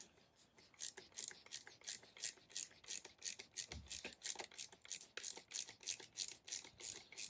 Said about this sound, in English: it will get tightened up just so the bolt is protruding just a little bit